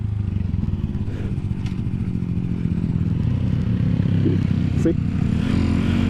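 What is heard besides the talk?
motorcycle being ridden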